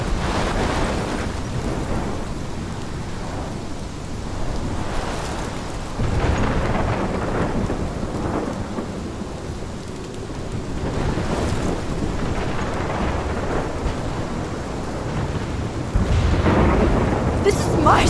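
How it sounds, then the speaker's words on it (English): A thunderstorm rages in the video game Life is Strange Remastered, with dense rain and wind and repeated thunder rolls and cracks that swell and fade over the whole stretch, loud and continuous, with no talk. "This is my storm."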